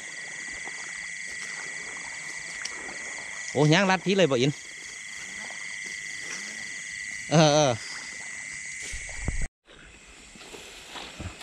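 At night in a rice field, frogs croak steadily as a constant background chorus alongside insects, while someone speaks in two brief bursts over it.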